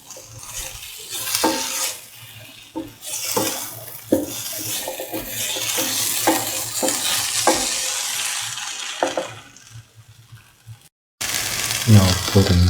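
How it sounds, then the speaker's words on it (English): An okra and potato mix is sautéed in a pan, with repeated scraping stirs and clatters of the utensil over a steady sizzle, close and fairly loud. "Saute mix."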